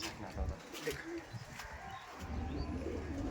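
Punjabi pigeons coo faintly in short low phrases close by, with a few sharp clicks and muffled voices in the background throughout.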